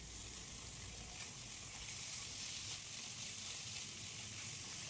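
Minced chicken keema cooks in a hot pan with melted tomato, a loud, even hiss of sizzling that holds steady throughout, close up and with no voices.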